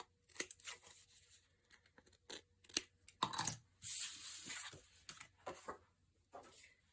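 Paper trimmed for a library pocket bookmark gives quick close snips and soft tearing rustles in scattered bursts, with one longer crinkly swipe partway through and quiet pauses between cuts.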